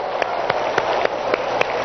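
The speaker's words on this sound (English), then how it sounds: "Help me clap, that's it." Audience members clapping together during a persuasion seminar, a steady patter of many hands with a few sharper claps standing out, moderately loud and without speech on top.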